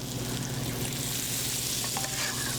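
Battered cauliflower pieces fry in a hot skillet, a steady dense sizzle with a constant low hum underneath and a few faint clinks of stirring near the end.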